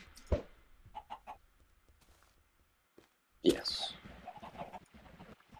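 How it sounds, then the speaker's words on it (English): Minecraft chickens cluck in short bursts, a few soft calls early then a louder cluster of clucks later, with a brief spoken word from a player in between. "there's a bunch of chickens in here"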